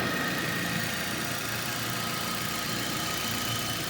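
Steady idle of a Nissan Altima engine, freshly put back together, a continuous even hum with light vibration and no voices over it.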